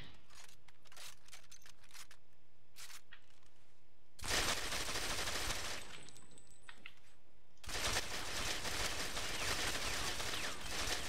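Gunfire in the video game Ghost Recon Phantoms while recoil is tested, with two long sustained bursts of automatic fire, loud and dense, following a stretch of quieter scattered in-game clicks and tones.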